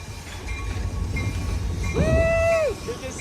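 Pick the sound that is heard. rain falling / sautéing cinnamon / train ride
train ride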